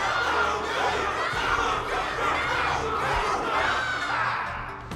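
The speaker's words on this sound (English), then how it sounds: "Everyone's cheering for you, Luca." A large crowd cheers and shouts loudly in a video game battle arena, a dense continuous roar of many voices with rising and falling swells that fades slightly toward the end.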